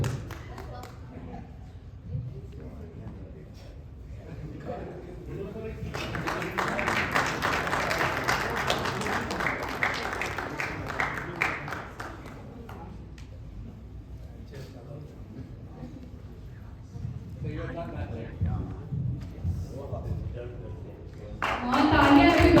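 Audience applause at a Bhojpuri film press conference: a dense, steady burst of clapping swells in the middle of the clip and runs for several seconds, with voices talking before and after it.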